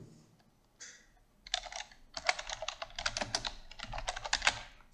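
Typing a web search into Google Chrome on a computer keyboard, a close series of crisp key clicks in quick irregular bursts after a few isolated taps at the start, with no voice over it.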